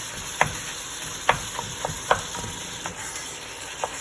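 Ground beef for Texas chili browning in a pan, a constant sizzle with sharp spatula scrapes and chopping taps every second or so, close and clear with no voices.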